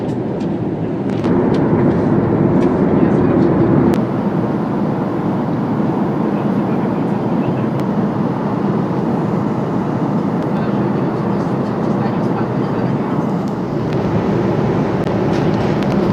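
Steady, loud airliner cabin roar during a flight in stormy weather, a broad continuous rumble that fills the whole stretch with only slight shifts in level.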